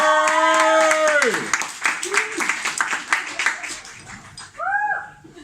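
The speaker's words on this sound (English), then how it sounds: "let's give him a big warm round of applause" Audience at a standup comedy show in a Zürich venue claps and cheers briefly, with an announcer's voice over the start and more whoops and talk toward the end.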